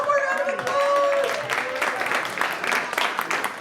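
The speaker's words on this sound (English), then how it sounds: "One more round of applause." Audience applause for jazz performers at a Jazz Day event, dense clapping swelling after a fading tonal note and holding steady, with a voice speaking over the start.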